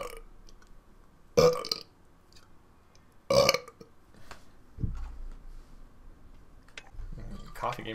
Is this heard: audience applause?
no